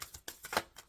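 Tarot cards being shuffled by hand in a quick, brief riffle of soft papery flicks and slaps, faint and close.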